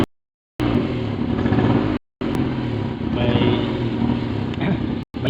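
A Mitsubishi Mirage engine with a number one injector circuit fault idles roughly, a steady loud low rumble with uneven pulsing, broken by two brief gaps.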